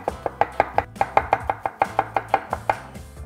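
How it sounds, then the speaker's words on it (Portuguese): A knife slices a halved onion thinly on a board, a quick even run of about fifteen crisp close chops. "Vou partir ela no meio e nós vamos fatiar ela bem fininho."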